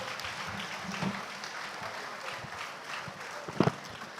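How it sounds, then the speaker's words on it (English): Scattered clapping from a conference audience, thin and uneven with a few sharper claps, fairly faint in a roomy hall. "let's clap for her"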